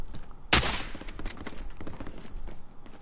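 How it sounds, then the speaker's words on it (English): Gunfire in the Warzone video game: a sharp loud shot opens a string of quicker, quieter shots and bursts that crackle at mid distance over about three seconds. "There's more shooting southwest"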